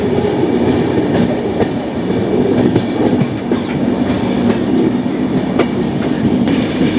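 Saraighat Express running on tracks after leaving New Bongaigaon Junction, a continuous loud rolling rumble with rhythmic clickety-clack of wheels over rail joints, heard close from aboard with no talk.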